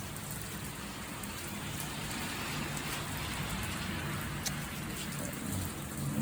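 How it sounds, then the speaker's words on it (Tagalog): Heavy rain pours down from a rooftop, a dense, steady roar of falling water that stays loud and unbroken throughout. "Lakas ng lang ulan."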